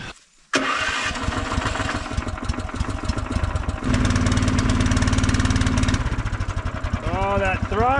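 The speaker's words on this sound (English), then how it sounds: "let's get the snow dog fired up" A Snow Dog motorized tow with a faulty throttle switch starts outdoors in a snowy blizzard. After a short pause the engine catches, settles into a loud, close, chugging idle, then rises briefly in pitch near the end.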